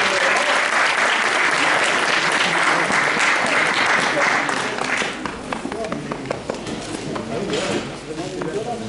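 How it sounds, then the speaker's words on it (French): A live audience at a comedy show in Couzeix gives loud, sustained applause to comedian Didier Laurini, the dense clapping tapering off toward the end as a few scattered claps remain. "si vous voulez l'applaudir, merci"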